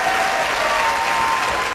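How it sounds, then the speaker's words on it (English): Studio-style audience applause, a dense, loud burst of many hands clapping and a bit of crowd noise that cuts off abruptly at the end. "let's give him a big round of applause!"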